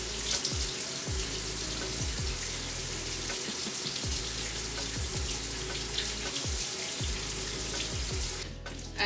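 Water runs steadily from a tap as hair is wetted during a natural hair wash day, a constant hiss with soft splashes and occasional low thumps, fairly quiet and without talk.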